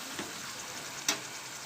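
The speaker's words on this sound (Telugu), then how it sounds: "ఈ విధంగా ఎన్ని ఉంటే అన్ని వేయించేసేసుకొని పక్క తీసేసుకోవాలండి" Bitter gourd pieces frying in hot oil for a masala curry, a faint steady sizzle with two brief crackling pops, no voices.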